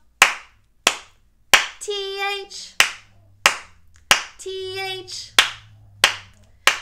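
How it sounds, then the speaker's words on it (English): Sharp, rhythmic hand claps keep the beat of a children's Earth Day song at a preschool storytime, loud and close, falling in a steady pulse between bursts of sung voices spelling out letters. "All right, three claps this time."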